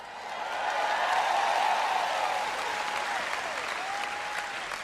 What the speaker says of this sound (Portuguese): Podemos parar aqui e ter uma festa de aplausos.